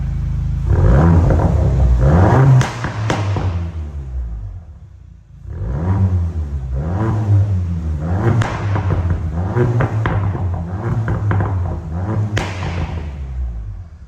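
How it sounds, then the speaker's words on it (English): A 2021 Ford Focus ST with a Milltek exhaust revs loudly up close, rising and falling in repeated throttle blips with a deep rumble and occasional crackles. "we'll have a little listen to the exhaust"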